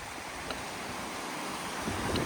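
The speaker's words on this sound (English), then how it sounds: "Just crossing the River Tees again, on the bridge here." The River Tees flowing beneath a bridge, a broad steady rush of water mixed with wind buffeting the microphone, continuous and fairly loud with no voices.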